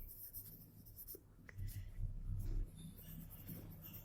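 Pen scratching on paper while numbers are written out by hand, a faint, close scraping of short strokes in a quiet room.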